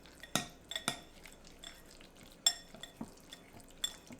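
Tuna salad with garlic being stirred in a bowl, a utensil knocking and scraping against the sides in irregular sharp clinks and taps, close and alone.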